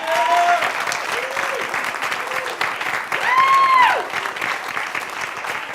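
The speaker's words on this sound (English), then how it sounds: "If you could join me in a round of applause for Professor Rowe." A crowd applauds steadily, dense clapping filling the space, with a few brief whistles or cheers rising above it.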